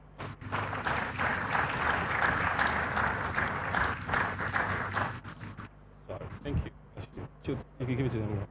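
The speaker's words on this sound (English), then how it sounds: "Another round of applause for him, please." Dense applause from a crowd at a CEO forum in Nigeria fills the first few seconds, then fades into scattered claps and a few louder isolated hits.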